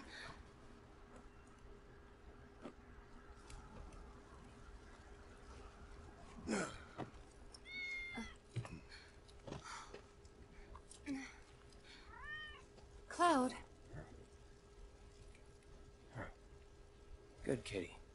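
A cat meows a few times in Final Fantasy 7 Remake, its soft rising and falling cries coming through amid game ambience and character dialogue.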